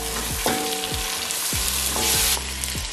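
Ginger and garlic fry in a pan for chicken biryani, a close, steady crackling sizzle with a few stirring scrapes, no voices over it.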